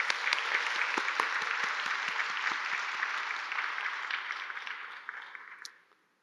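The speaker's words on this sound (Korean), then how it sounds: "우리 큰 박수 한번 치겠습니다." A church congregation at a Sunday service breaks into loud, dense applause that holds steady for several seconds before thinning out and fading away.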